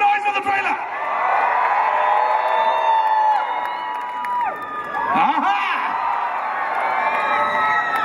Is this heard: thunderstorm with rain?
no